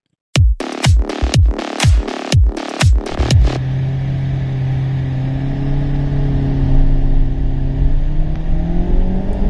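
A Honda WR-V petrol engine with manual gearbox revs sharply in a rapid series of short bursts, then settles into a steady, loud drone toward its 7,000 rpm redline with a faint rising whine, close by and with no talking.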